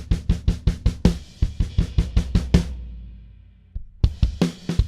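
A floor tom pounded in rapid, even strokes, then one long ringing boom that fades, a single soft hit, and another quick run of loud, close hits.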